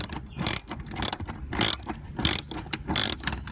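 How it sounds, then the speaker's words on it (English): Socket and ratchet backing out screws on a Mercedes C-Class during a fog light install: about six short bursts of close, crisp ratcheting clicks, spaced roughly half a second apart, with no talk. "Now using your socket and ratchet, you're just going to go ahead and remove each of these individual"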